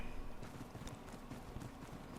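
Horse hooves clip-clop in a steady run inside the video game Ark, a quiet rhythmic patter of footfalls heard alone against soft game ambience.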